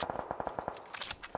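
Rapid video-game gunfire in a battle royale match, a string of sharp close shots in quick bursts, then a denser volley near the end.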